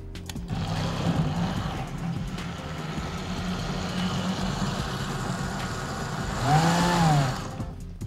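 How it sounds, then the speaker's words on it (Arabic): A blender whirs steadily while mixing ice cream into a white chocolate milkshake, holding a continuous motor drone and rising briefly to a higher, louder pitch near the end. "دلوقتي هنزل بباقي الايس كريم واضرب ضربه بقى ايه خفيفه خالص"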